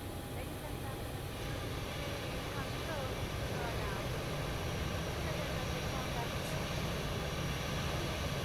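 An airliner engine spools up on the ground during engine start in a flight simulator game. A steady, droning mechanical hum with a low rumble holds evenly at moderate level throughout.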